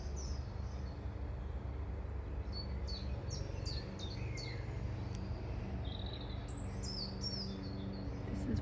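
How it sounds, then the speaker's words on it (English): Many wild birds call and chirp at a feeding spot, short bright tweets and trills scattered one after another at moderate distance over a steady low background rumble. "Abundance of birdies."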